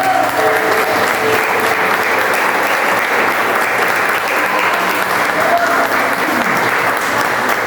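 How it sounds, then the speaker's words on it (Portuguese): Strong, sustained congregational applause at a church service held in a garage, dense and even throughout with crowd noise blended in. "Você pode aplaudir o Senhor bem forte."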